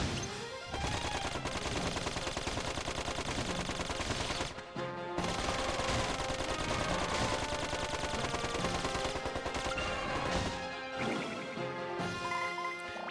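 Max's gun in Dark Cloud 2 fires repeatedly at enemies, dense rapid bursts of gunfire running almost continuously with one short gap, mixed into loud game music and effects.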